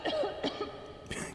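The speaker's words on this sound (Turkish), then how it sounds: "Ne öksürdü kadın ya, doyamadı öksürmeye." A woman coughs in the video game Metro Exodus, two or three harsh, close hacking bursts with a throat-clearing quality, followed by another rough cough near the end.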